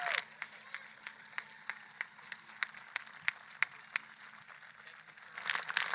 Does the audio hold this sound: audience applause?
yes